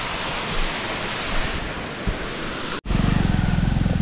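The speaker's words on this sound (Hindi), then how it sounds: "waterfall number two" Baba Waterfall at Kumbwade in Amboli Ghat, near Sawantwadi, sends up a steady, loud roar of falling water. Near the end the roar cuts out abruptly, then returns with a low, rhythmic pulsing beneath it.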